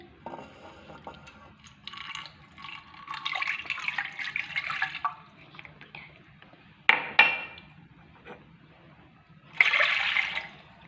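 Water, one and a half cups, is poured into a cooking pan on a kitchen stove, giving uneven splashing and trickling bursts with brief pauses between pours.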